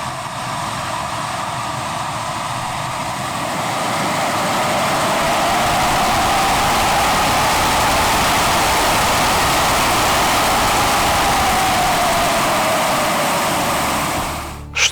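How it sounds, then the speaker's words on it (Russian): A 49-tonne tank's helicopter-type gas turbine engine runs with a loud, steady roar and a rising-then-falling whine, holding constant for about fourteen seconds before cutting off abruptly. "Преимущество его в том, что в нем стоит газотурбинный двигатель."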